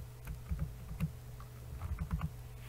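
Keys tapped on a computer keyboard while entering text in a Visual Basic program, soft uneven clicks in small clusters, close and quiet against a low steady hum.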